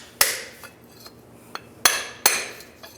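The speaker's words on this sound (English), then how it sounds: "Or you can take a punch and just get in behind here. Just give it a couple taps." Metal punch tapped against a Nissan Xterra CV axle to pop it loose, giving several sharp, ringing metallic strikes in an irregular rhythm, close and clear with no talking.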